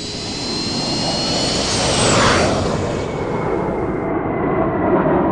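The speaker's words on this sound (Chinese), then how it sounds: "第二天，这架图104成功起飞，朝青城机场飞去。" A Tupolev Tu-104 jet airliner takes off, its loud roaring jet engine swelling to a peak with a sweeping whine before settling into a sustained rumble, with no voices.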